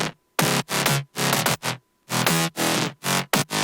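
Distorted electronic bass from the main and bus channels of a self-produced track, sounding as loud, gritty bursts in an uneven rhythm separated by short silences, with no voices.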